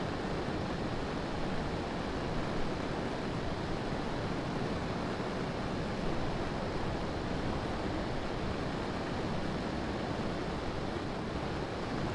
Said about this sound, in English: As you can see, the wind is really whipping around here.